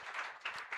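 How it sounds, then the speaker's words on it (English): Applause from an audience at a hospital competition award ceremony, acknowledging the panelists: a brief, soft, continuous patter of many hands with a couple of slightly louder swells. "Please stand up. I want them to clap for you again."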